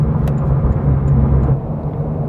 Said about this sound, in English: a very responsive, naturally aspirated engine that is probably the most willing to rev than any other car that's on the market right now